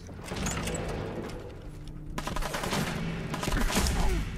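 Laser weapon fire in Fallout 4 gameplay: a dense, rapid burst of zapping shots with mechanical clatter, loud and close, running continuously with a brief break near the middle.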